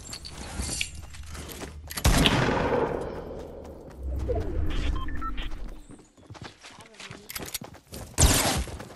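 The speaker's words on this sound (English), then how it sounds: "He's shooting at me." Gunfire in Fortnite lands as a few sharp, loud cracks spread across the span, with softer game noise and footsteps between them and voices talking intermittently.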